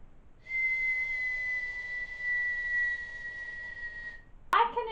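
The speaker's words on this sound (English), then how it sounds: "I whistle differently to most people" A single long, steady, high-pitched whistle held for about four seconds is heard close and clear, then cut off by a brief sharp sound.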